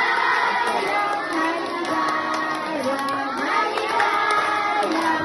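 Children at Banabahin Elementary School in Lopez, Quezon clap and shout together at a birthday celebration, a continuous loud crowd of young voices and hands filling the whole stretch.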